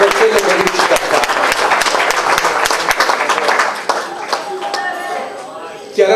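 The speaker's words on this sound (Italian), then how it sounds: "tutti voi dobbiamo tutti insieme tributare un applauso proprio con tutto il cuore" An audience at a Lions Club bell-passing ceremony in Valle dei Templi bursts into dense, steady applause that holds for several seconds, then thins toward the end as a voice begins to speak.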